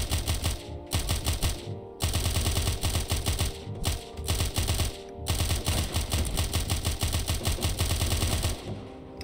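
A Tommy gun fires in the video game Of Murder and Moonshine, loud rapid automatic bursts in long strings broken by short pauses, harsh and clattering with no talk.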